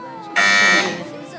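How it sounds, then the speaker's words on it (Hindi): A quiz show buzzer, pressed by a contestant team during a televised Ramadan iftar quiz, blares for about half a second as a harsh loud tone, with voices in the background before and after. "बजर बजाई है दारुल मदीना ने"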